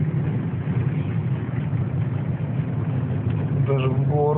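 A car with a 21126 engine accelerates under load in third gear on a straight road. A steady, loud, low engine drone runs throughout, with no pauses.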